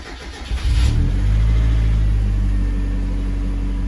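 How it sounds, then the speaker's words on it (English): A turbocharged 1.6 Mazda Miata engine cranks and catches, then settles into a steady, close idle rumble with a brief rev as it starts. "So let's start the engine."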